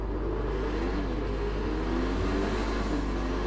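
Engine of an Infernus Classic car in GTA 5 idling and gently revving, a steady low rumble with slight pitch wobbles, close and even in level without voices.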